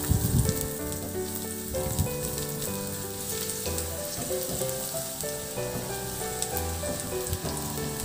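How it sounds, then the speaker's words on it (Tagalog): Garlic sautéing in hot cooking oil in a pan for pork pata hamonado, giving a steady, dense crackling sizzle with small pops and occasional stirring scrapes, close and continuous with no talk. "Sa kawali, maglagay ng mantika, painitin at igisa na rin yung bawang hanggang sa maglabas ng aroma."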